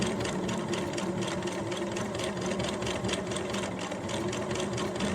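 Sewing machine stitching a quarter-inch seam through thick fabric for a mask, a steady close mechanical whir and rapid needle rattle running without a break.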